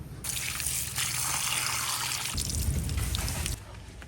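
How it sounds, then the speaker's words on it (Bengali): Shrimp are rinsed under a running tap in a village kitchen. The water gushes steadily and close, splashing and dribbling throughout, with its tone shifting slightly partway through. "এই চিংড়ি মাছ ধুয়ে লইছি"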